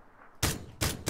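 Two sharp, loud gunshots crack about a third of a second apart during a close firefight in the video game PUBG, each with a short broadband tail.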